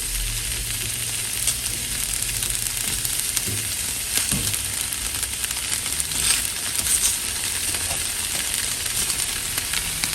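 Five medium tomatoes, cut in half, sizzling steadily in a hot pan, a continuous close frying hiss with a few soft clicks and scrapes as they settle.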